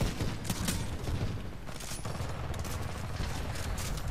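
Sustained gunfire in Titanfall 2, a dense, loud barrage of rapid shots layered with heavy low rumbling, continuous throughout.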